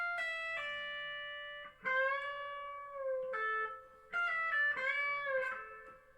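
A three-note guitar lick from the intro of a song, one picked note followed by two pull-offs, repeated several times. It rings clean, close and moderately loud, with sustained tones and short gaps between phrases.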